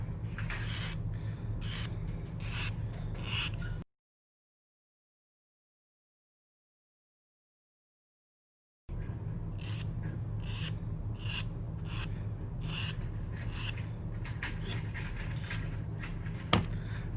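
A file works a brooch's wire pin in short, close rasping strokes with rhythmic bursts. A long silent gap splits the filing into two runs.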